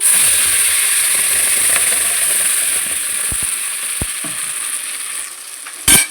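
Ground masala is added to a pan of horse gram for a sambar, producing a continuous close sizzle with a few sharp utensil knocks and a brief louder burst near the end.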